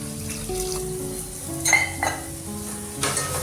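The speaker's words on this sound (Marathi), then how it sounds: "आता हे चांगलं असं मिक्स करून घ्यायचं मी ते वरणामध्ये थोडंसं गरम पाणी करून घेतलेलं आहे ते टाकून घेते" Dal being stirred in a hot pan as a splash of warm water goes in, sizzling and bubbling with clinks of a metal spoon against the vessel, close and continuous over a short stretch.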